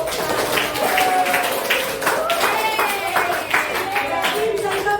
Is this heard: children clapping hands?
yes